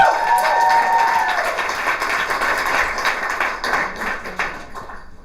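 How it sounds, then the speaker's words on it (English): Audience applause welcoming a speaker onto the stage at a conference talk, a burst of clapping from a moderate crowd with a few cheers at the start, gradually thinning into scattered individual claps. "Give her a round of applause."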